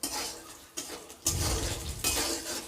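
Split-pea lentil badi frying and being stirred in a hot wok for Bengali sukta, giving a steady sizzle broken by scraping, clinking stirs in loud bursts.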